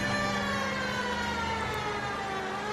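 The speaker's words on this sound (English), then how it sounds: "I love the siren on so cars clear out of our way." A police car siren wails continuously in the video game L.A. Noire, loud and close, blended with a steady engine drone and no talk over it.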